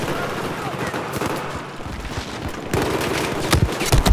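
Gunfire in the first-person shooter Battlefield 4 during close-quarters play on the Zavod 311 map: dense bursts of rapid shots and booms, loud and continuous, louder near the end.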